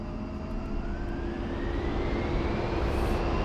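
Twin jet engines of an A-10C roar at full takeoff power in the Digital Combat Simulator flight game, a loud, steady broadband rush with a slowly rising whine, no talking.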